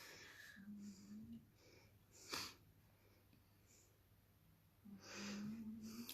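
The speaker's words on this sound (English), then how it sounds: "my dog's snoring, sorry." A part-pug dog snoring indoors: two drawn-out, wheezy nasal snores with quieter breathing and a brief sharp noise between them, faint and close.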